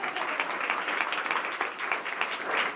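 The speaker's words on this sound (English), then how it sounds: "You can clap for yourself." Audience clapping in a room at an event finale, a dense, lively patter of many hands at moderate level, continuous throughout.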